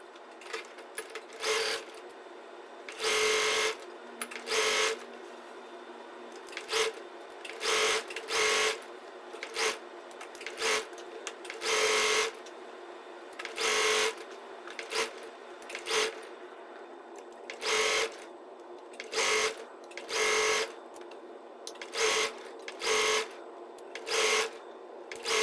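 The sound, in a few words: sewing machine sewing collar binding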